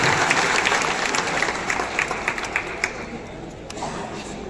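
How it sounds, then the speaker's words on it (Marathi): An audience at a hall inauguration claps loudly and steadily, then tapers slightly, with a voice talking over the applause. "टाळ्या वाजल्याच पाहिजे"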